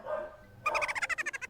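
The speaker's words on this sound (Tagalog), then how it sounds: "Continuous barking." A dog barks in a rapid, evenly spaced run of about ten sharp yaps, close and fairly loud, following a brief higher whimpering sound.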